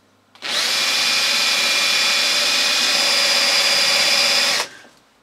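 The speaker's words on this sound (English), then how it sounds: "I'm just using a battery powered drill" Battery-powered drill putting a centre-drill mark in a workpiece on a lathe, one steady loud whine that starts abruptly, runs evenly for about four seconds and stops sharply, with no talk.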